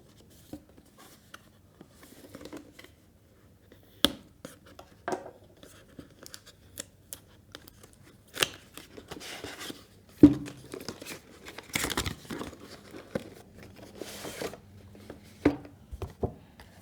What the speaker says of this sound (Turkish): Evet şu anda kutuyu açıyorum.